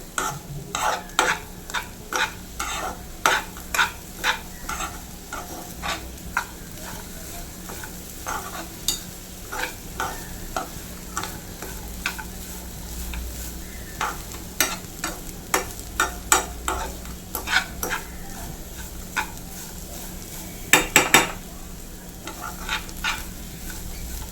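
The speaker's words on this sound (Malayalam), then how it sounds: "നല്ലപോലെ ഒന്ന് മിക്സ് ആക്കി വയ്ക്കാം" Repeated scraping strokes of a spoon stirring a ripe plantain mixture for unnakkaya in a pan, steady and rhythmic over a soft sizzle, with no voices.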